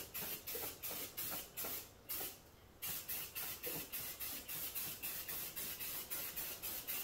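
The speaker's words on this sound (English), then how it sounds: "spray this corner right here" A spray paint can sprays a car part in candy red over Rust-Oleum gold metallic, a rapid series of short hissing bursts pulsing in a steady rhythm, with one longer continuous spray partway through, close and fairly quiet.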